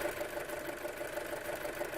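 An Audi A6 2.0 TFSI engine with a possible PCV valve fault idles steadily up close, a continuous mid-pitched hum with a fine rhythmic ticking running through it and no voices.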